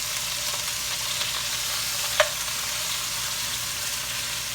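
Half ground meat and half sausage browning in a pan for a casserole; a continuous moderate sizzle with light stirring and a single brief utensil tap, no voices.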